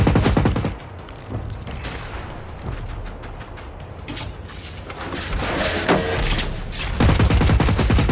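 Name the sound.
gunfire in the video game Generation Zero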